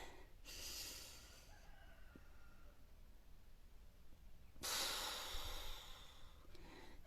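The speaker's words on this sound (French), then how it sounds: "Allez, on inspire." Two long, deep breaths drawn in during a guided meditation, soft airy inhalations close to the mic and separated by a quiet pause, with no talking.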